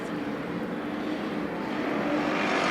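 Race cars racing at Bakersfield Speedway in a weekly series event, a continuous loud roar of engines from the pack that builds slightly toward the end.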